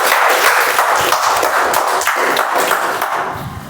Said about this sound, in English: Let's give a good round of applause to Toastmaster.